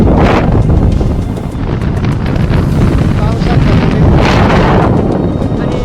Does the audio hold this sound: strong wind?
yes